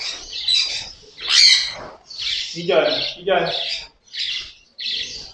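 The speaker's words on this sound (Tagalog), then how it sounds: "Eto sila, yung handfed na ibon na pinaraffle ng hubby ni mami." Handfed pet birds give loud, close, bursty squawks and chirps in a series of separate calls.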